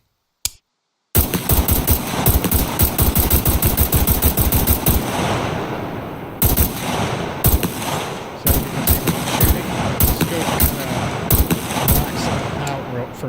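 SCAR rifle fired in the video game SCUM, a dense run of loud, close gunshots after a brief single shot and a pause, with the shots running almost continuously and a short gap midway.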